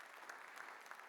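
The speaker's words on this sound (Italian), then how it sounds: "un applauso a Paolo Urbani" Applause from an audience at a public sports talk event in Gemona del Friuli, a brief steady patter of clapping heard at a distance.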